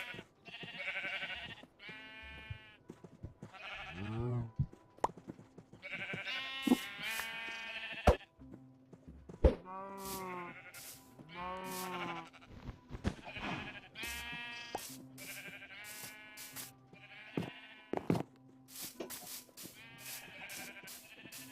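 Sheep in the Nintendo Switch game Chroma Hills bleat repeatedly, overlapping calls of varied pitch spread across the scene with short gaps, over quiet background tones.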